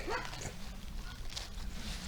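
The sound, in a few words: village head's dogs barking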